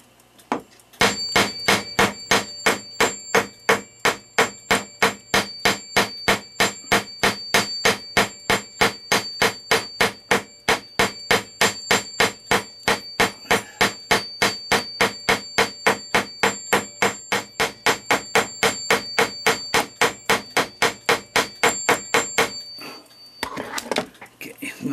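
A newly machined small cuckoo clock part is struck with a hammer in a rapid, steady series of sharp metallic taps, dozens of close blows at an even rhythm before stopping.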